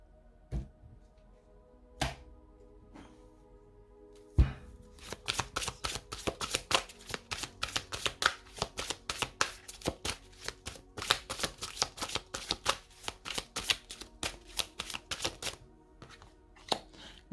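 Oracle cards shuffled by hand, a few isolated taps at first, then a close, rapid run of crisp riffling card flicks in an uneven, clattering rhythm, heard without talking.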